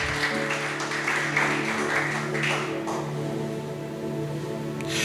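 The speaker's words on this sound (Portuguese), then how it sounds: "vamos aplaudir o Senhor Jesus bem forte para o Rei da Glória" A church congregation claps loudly together for Jesus, a sustained wash of applause over a low sustained instrumental tone, fading slightly after about three seconds.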